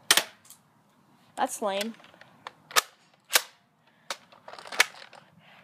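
A Nerf blaster loaded with Elite foam darts fires several sharp snaps spread across a few seconds, close by, while a person talks in between the shots.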